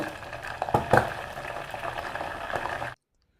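Herbal hair oil with chopped aloe vera simmers and bubbles in a pot on a low flame, a steady soft sizzling crackle with a few sharper pops, close by, cutting off abruptly near the end.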